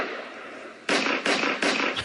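Gunfire from a gun battle video effect, a few sharp crackling bursts in quick succession over a steady background hum, moderately loud.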